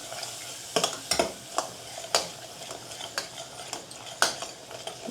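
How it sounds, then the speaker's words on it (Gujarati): A spoon stirs spices through green beans frying in a pan. Soft sizzling runs steadily beneath repeated scraping clinks against the metal, heard up close with no voices. "ચાલો તો બધા મસાલા નખાઈ ગયા છે આપણે મિક્સ કરી દઈએ"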